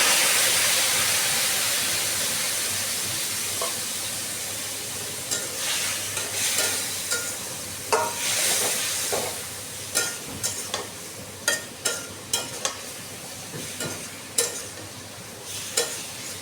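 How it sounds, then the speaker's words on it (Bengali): Spice paste frying in a pan after a little water is added, starting as a loud steamy hiss that slowly fades into a lighter sizzle punctuated by repeated sharp stirring scrapes. "মশলাটাকে কষিয়ে নিতে হবে, সেজন্য একটু জল দিয়ে দিচ্ছি"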